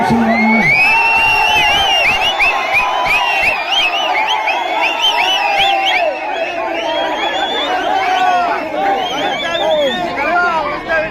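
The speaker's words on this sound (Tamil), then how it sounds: "ஒரு எழுச்சி மிகுந்த ஆரவாரம் மிகுந்த உற்சாகம் மிகுந்த இந்த ஹை எனர்ஜி" A large crowd at an election campaign rally in Viralimalai, Tamil Nadu, cheering, whooping and shouting loudly and continuously, dense and nearby, with many voices overlapping.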